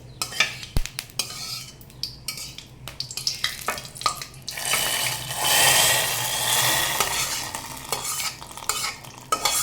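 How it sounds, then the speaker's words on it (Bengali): Hot tempering poured into a simmering lentil and pumpkin dal gives a loud, sustained sizzle and hiss, with clinks and stirring scrapes of a utensil against the pot before and around it. "এখন আমি ফোড়ন করে নেব কিছু সময় এটা ফুটিয়ে নিয়েছিলাম সব সিদ্ধ হয়ে গেছে তরকারি এখন এই ফোড়নটা ঢেলে দেবো"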